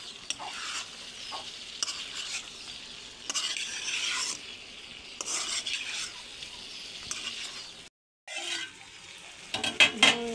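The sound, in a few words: chicken meat being stir-fried in a pan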